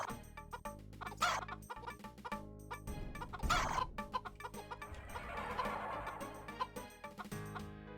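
Chicken clucking in the video game Heretic, a run of quick repeated clucks and squawks, up close and fairly loud, with brief gobbling bursts and game sounds around them.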